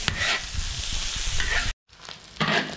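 Green vegetables stir-fry in a pan with dried scallops and shrimp meat, sizzling loudly with scraping stirs, cutting out briefly before the hiss resumes.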